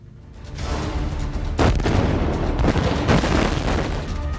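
Israeli LORA missile strike exploding on a bridge, a heavy, dense roar of blast rumble that swells and stays loud throughout, with sharper booming bursts punching through near the middle.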